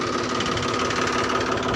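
A tractor engine runs steadily and alone, a close, even chugging hum with a faint knocking rhythm throughout.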